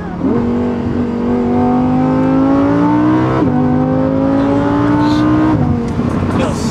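An Audi R8 engine revs hard and climbs in pitch, with two quick gear shifts that break the rising tone. It sounds loud and close, like it is heard from inside the car.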